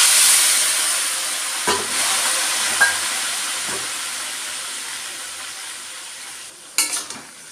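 Vegetables for a fish-head and fresh spinach curry hit a hot pan with five-spice seasoning, setting off a loud, steady hiss of sizzling that slowly fades, with occasional stirring clatters.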